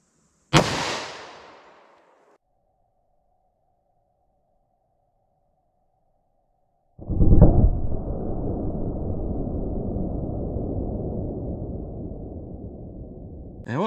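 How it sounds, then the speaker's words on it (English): A .357 Magnum revolver firing a hot .38 Special round, a single sharp loud shot with a quick decaying echo, then silence and a long sustained broadband rush of noise. "we'll see what kind of performance we get with this 357 mag with a really hot 38 in it"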